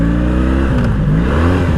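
A 1984 Honda V65 Sabre 1100 motorcycle engine drones loud and close as it shifts into gear, the engine tone dipping and then rising again during the brief change.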